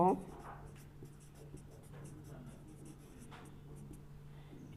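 Pen scratching on paper while working through a tenth-grade math problem, a faint, steady run of short strokes over a low background hum, with a voice faintly present.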